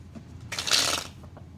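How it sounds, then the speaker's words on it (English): Tarot cards being shuffled by hand, one soft, close riffling burst of about half a second, fairly quiet with no talk. "I just tried to shuffle the deck"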